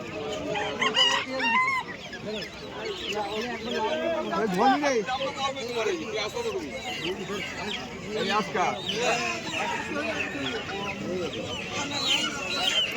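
Chickens at a busy rural livestock market, with repeated clucking and roosters crowing close by, mixed with people talking and crowd chatter all through.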